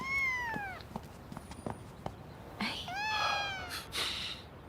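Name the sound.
cat meowing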